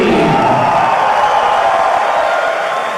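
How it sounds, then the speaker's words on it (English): Fight night crowd at a Muay Thai event roaring and cheering loudly and continuously as a fighter is introduced, a dense wall of voices and whoops that eases off slightly toward the end. "Excitement in the crowd."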